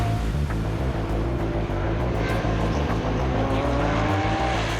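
Trans Am race cars run at Indianapolis Motor Speedway, a dense, continuous roar of loud engines close by with revving harmonics and a steady wash of track noise throughout.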